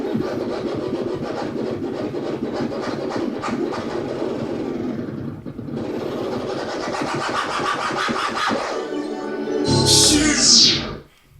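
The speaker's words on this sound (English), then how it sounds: "It feels like true to life vinyl when you're doing all your scratches" Scratching on a RANE Twelve motorized turntable controller, with rhythmic back-and-forth scrubbing strokes that run steadily and loud, briefly pause midway, then resume and end in a bright whooshing burst.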